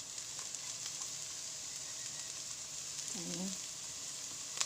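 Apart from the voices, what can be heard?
garlic frying in the pan for pork kare-kare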